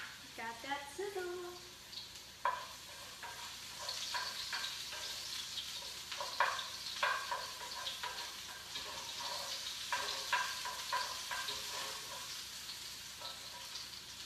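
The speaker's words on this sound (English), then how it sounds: "Got that sizzle." Shallot and garlic sizzle in olive oil in a pan on the stove, a steady crackling hiss with occasional light clicks of a utensil stirring, close and moderately quiet throughout.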